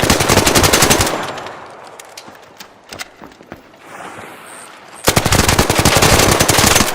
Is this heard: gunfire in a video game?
yes